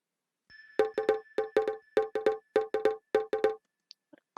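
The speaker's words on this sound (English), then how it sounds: "Lin conga right there." A Lin conga percussion sample plays in an Afro swing beat: short, crisp, pitched hand-drum hits in quick repeating groups of two or three, loud and close with nothing underneath, trailing into a few faint scattered ticks.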